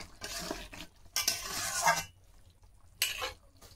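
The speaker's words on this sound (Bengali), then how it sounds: "জিরে বাটা দিয়ে আমি আর 1 মিনিট জাল করে নিলাম।" Cumin paste frying in a pan for Bengali prawn malaikari, stirred in three scraping, sizzling bursts with quiet pauses between, close and fairly loud with no talk.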